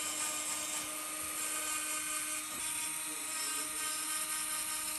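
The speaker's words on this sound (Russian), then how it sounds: "Какие интересные ощущения, когда пилят ноготь." An electric nail file whirs steadily against a fingernail in a salon, a thin high-pitched buzz that holds constant and close throughout.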